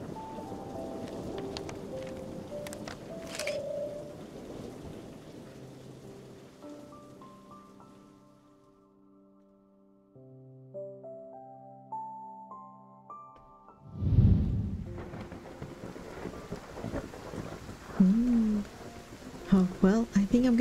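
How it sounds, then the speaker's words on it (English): A thunderstorm rolls in within a video game: soft rain patters under gentle game music, and a deep, loud thunder rumble breaks in midway. A voice talks at times. "Sounds like another storm's rolling in."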